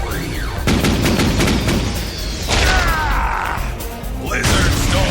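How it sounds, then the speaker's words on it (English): Missiles firing in an animated Transformers cartoon battle, a loud burst of launching whooshes, booms and mechanical clatter layered with sweeping tones, continuous and dense over several seconds. "Firing missiles!"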